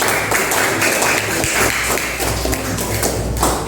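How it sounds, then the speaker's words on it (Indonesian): Primary school class of fifth graders claps for presenting groups three and two, a lively patter of many small hands with occasional thumps and shuffling, close and fairly loud, gradually thinning toward the end. "kasih tepuk tangan untuk kelompok 3 dan kelompok 2 yang sudah memberikan tanggapan"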